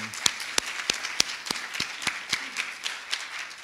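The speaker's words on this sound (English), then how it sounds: "Can we give Melinda a round of applause, please?" A small audience at a morning church service claps in a round of applause, individual hand claps distinct and irregular at moderate level, a sparse group rather than a large crowd, with no voices over it.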